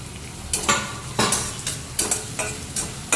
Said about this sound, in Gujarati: ડુંગળી ચડવા દેવાની કલર બ્રાઉન થાય ત્યાં સુધી